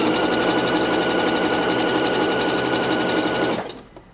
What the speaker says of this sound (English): I'm going to just secure this to the edge. All the way around with my little zigzag stitch